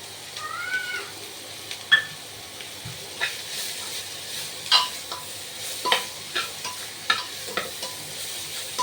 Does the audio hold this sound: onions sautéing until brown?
yes